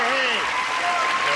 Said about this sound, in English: let's say hello to stars with a big round of applause.